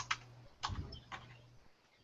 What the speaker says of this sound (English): go ahead and type in business